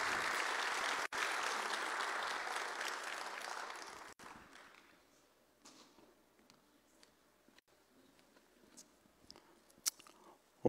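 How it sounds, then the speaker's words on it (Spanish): A church congregation applauds warmly, dense steady clapping for about four seconds that then thins out into a few scattered claps and quiet room noise. "recibamos con un fuerte aplauso a nuestro hermano Juan Manuel"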